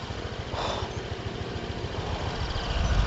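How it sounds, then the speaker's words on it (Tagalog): Motorcycles ridden by a group on a cold mountain road in Apayao, a steady buzzing engine drone with wind rush, continuous and fairly close, no other sounds standing out. "Ayan yung mga naririnig ko na yung mga motor ng mga kasama ko."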